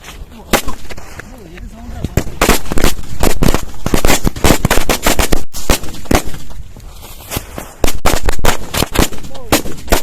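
New firecrackers being test-fired outdoors go off in a loud, rapid string of sharp bangs and crackling pops, nearly continuous with brief gaps, very close, with a voice occasionally audible between the blasts.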